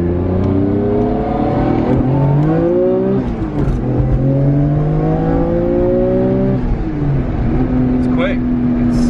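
A car engine revs hard and climbs through several gears, loud and close, with rising pitch sweeps and shifts throughout.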